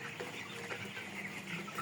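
Broiler chickens kept on a poultry farm cluck softly and steadily in a quiet, continuous murmur of overlapping calls, with no talking.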